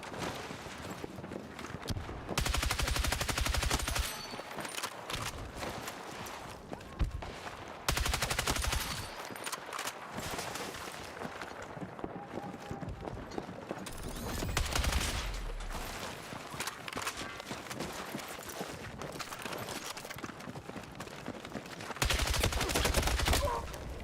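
Gunfire in the video game Battlefield 6, repeated bursts of automatic fire in bunches separated by quieter stretches, with footsteps and ambient battle noise between.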